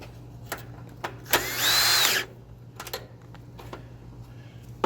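A fastener tightened with a power drill on an outdoor AC fan unit: one short whirring burst of about a second amid scattered clicks and handling knocks, close by with no speech.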